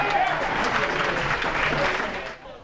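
Fans cheering at a sports event in Aggieville, a dense, loud, sustained crowd roar with clapping and mixed voices throughout, fading slightly at the end.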